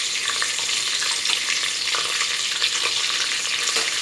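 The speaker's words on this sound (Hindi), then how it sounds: "हम करी पत्ता डालेंगे" Curry leaves and whole cumin seeds sizzle in hot oil for a South Indian sambar tempering, a steady loud close crackle and hiss with brief spitting pops throughout, no talking.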